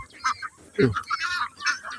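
Several ducks call close by with harsh, nasal honking quacks in quick, uneven bursts.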